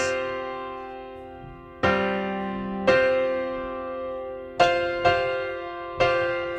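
Ringing chords played one after another on a bell-like keyboard or guitar tone, each struck and left to sustain and fade, unhurried and solo.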